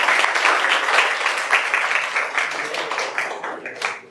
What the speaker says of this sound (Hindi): एक बार जोरदार आपने सबके लिए तालियां बजाइए।